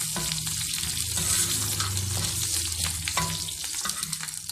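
Ginger garlic paste sizzles loudly in golden fried onions in a pan for tava dum keema, a steady close crackle with a few stirring scrapes and no talking.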